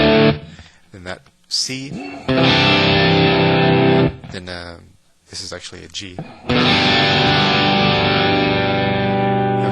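Electric guitar strummed with heavy distortion, sustained chords ringing loud and alone for a couple of seconds each, broken by short gaps where someone talks briefly.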